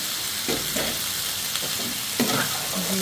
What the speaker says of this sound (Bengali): আমি ভালো করে ভাজা ভাজা করে নিচ্ছি